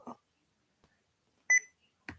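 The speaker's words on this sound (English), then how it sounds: "that little baby just heard was the laptop beeping there a little bit" A few short electronic beeps from a laptop, sharp and isolated, separated by near silence.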